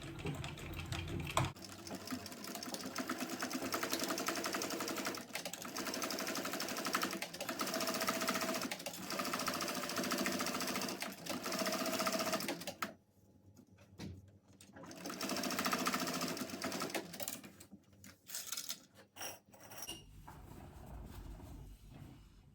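A sewing machine stitches a 3/8-inch seam on a crossbody bag, a fast steady whirring hum running continuously with brief pauses and restarts near the end, close and alone.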